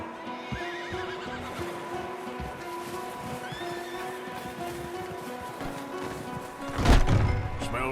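Horses whinny and neigh repeatedly outside a cabin in Red Dead Redemption 2, with shuffling hoof clops underneath and a sharper, louder burst near the end.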